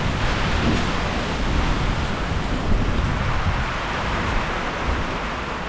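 Strong storm wind roars steadily in a broadband rush, buffeting the microphone close by, during an unseasonal hailstorm over farmland with trees bending, no voices.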